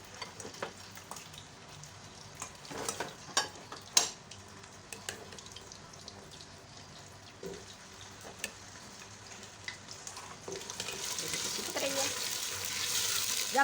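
Pieces of taro root (arvi) fry in lightly warmed oil in a pot, a soft sizzle with scattered clicks and stirring scrapes that swells into a louder, hissing fry toward the end.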